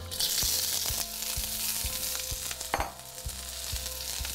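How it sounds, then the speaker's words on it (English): Garlic and chopped broccoli fry in oil in a pan, giving a close, bright sizzle with regular tapping knocks of a utensil against the cookware. "Just fry it up a little bit, about 10 to 30 seconds so it gets a little fragrant"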